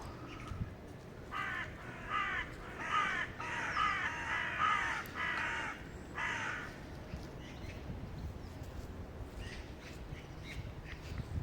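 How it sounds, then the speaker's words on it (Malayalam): A run of loud, rapid crow caws overlapping one another, then fading out, leaving quiet outdoor ambience. "കാക്ക ഗൈസ് കാക്ക"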